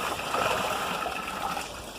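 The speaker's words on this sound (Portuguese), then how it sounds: "Olha. Olha a água mineral." A stream of mineral water trickles and gurgles outdoors along a forest trail, running continuously at close range with a steady splashing flow.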